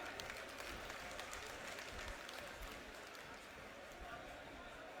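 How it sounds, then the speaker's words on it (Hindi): Crowd applause at an outdoor political rally in Rohtak, a steady broadband wash of clapping sustained through the whole stretch, moderately distant, with faint voices mixed in. "अपने खुद के लिए, रोहतक के लिए, इस क्रांतिकारी भूमि के लिए जोरदार तालियां बजाओ"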